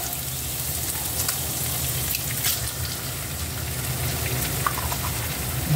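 Two eggs frying in a pan for fried rice made with leftover food, a dense, steady crackling sizzle heard close and continuous, with occasional small pops.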